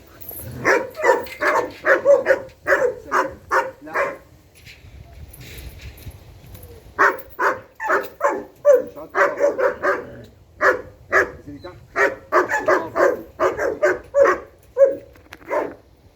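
A dog in obedience training barks in rapid, loud, close bursts, with a brief quieter pause partway through, then carries on with repeated barking to the end.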